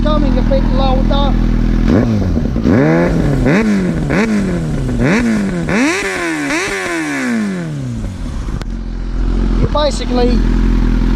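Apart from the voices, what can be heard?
Yamaha R6 sport motorcycle exhaust revving, muffler inside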